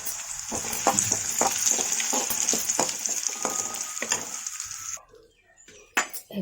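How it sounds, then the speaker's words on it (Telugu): Raisins fry in hot ghee in a pan for vermicelli payasam, giving a steady close sizzle with occasional stirring taps. The sizzle cuts off, leaving a few faint clinks. "అదే గీలో కిస్మిస్ కూడా వేయించుకుందాం."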